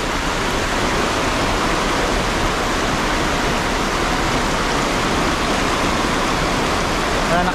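Riverside water rushes steadily in a continuous, loud broadband wash with no pauses, heard close up from the riverbank.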